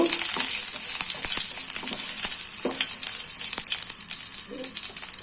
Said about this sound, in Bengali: তেজপাতা দারুচিনি আর এলাচ দিয়ে হালকা একটু ভেজে নেব